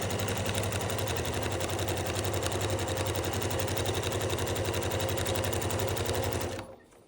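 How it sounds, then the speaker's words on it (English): A sewing machine runs steadily for about six and a half seconds, stitching quilt binding through a seam with a loud, even mechanical whir, then stops abruptly. No voices. "So right here, I'm going to start my sewing again. Continue right through that seam I just made."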